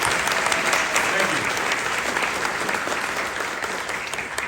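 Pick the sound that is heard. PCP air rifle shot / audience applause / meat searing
audience applause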